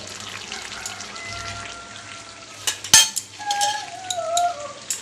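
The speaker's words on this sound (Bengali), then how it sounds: "এবার আমি একটু ঘি দিয়ে দেব" Ghee hits a hot pan for jackfruit kofta and sizzles and crackles up close, with a sharp clatter of stirring partway through and the frying growing livelier after it.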